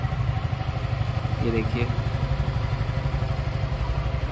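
A scale model motorcycle engine, started with the clutch held after the self-starter failed, runs in a steady rapid idling chug with a mechanical clatter, while someone speaks briefly over it.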